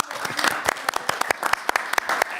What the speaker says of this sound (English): may I suggest applause for our interpreters who've been working diligently for the whole time we are here